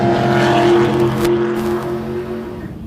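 Wayne Hewitt's race car out on the track at Mildura, its engine a loud, steady droning roar held close for a few seconds before easing slightly, with no voices over it.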